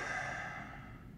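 A single deep, drawn-out breath during a relaxed yoga stretch, soft and close, steady airy exhale fading gently with no talking over it.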